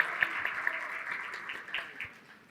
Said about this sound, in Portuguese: uma salva de palmas para o Felipe Neto.